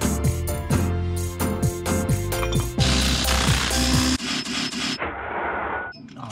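A brick hammering a car part gives a run of loud, sharp knocks at an irregular rhythm up close, followed by rougher scraping and clattering noise.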